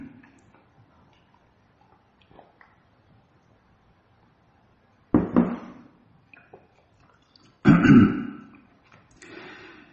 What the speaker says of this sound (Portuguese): deixa eu tomar água, estou quase tossindo